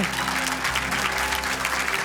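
Church congregation applause during a Spanish-language service, a loud, continuous, dense clapping wash filling the whole moment with no speech over it.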